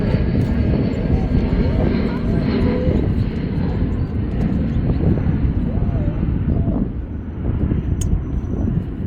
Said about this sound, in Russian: Самолеты эти летают.